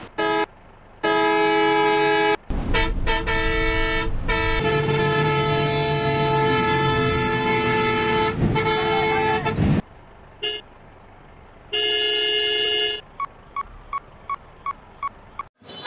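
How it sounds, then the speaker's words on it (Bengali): Bus horns from Bus Simulator Indonesia with a Bangladeshi HINO 1J bus mod: several loud, sustained multi-tone horn blasts of different pitches play one after another, ending in a run of short rhythmic toots, with no talking. "তো এখন তোমাদেরকে কিছু হর্নের সাউন্ড শোনাই।"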